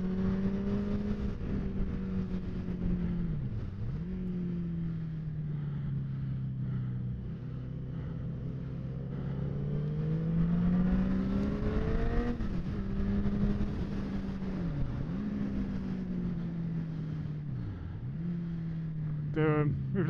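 A motorcycle at a track day session screams close by, its engine pitch climbing and dropping again and again through gear changes and corners while it passes a Ducati, ending in a quick burst of higher revs.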